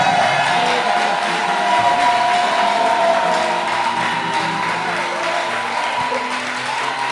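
A church congregation cheers and applauds the Holy Spirit during a worship service, a loud, continuous wash of clapping and voices that holds steady from start to finish.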